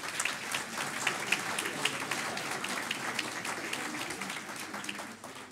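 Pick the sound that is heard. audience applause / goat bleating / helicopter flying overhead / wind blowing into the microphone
audience applause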